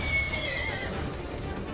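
A horse in the video game Assassin's Creed Brotherhood lets out one clear, whinnying neigh that rises and then falls away, close and fairly loud, with a few faint hoof clops under it.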